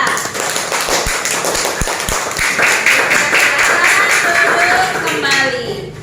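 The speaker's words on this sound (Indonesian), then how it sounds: "Tepuk tangan untuk kelompok 3" A group of people in a classroom applauds a student team with brisk, dense clapping that fills the room, while a voice talks over it.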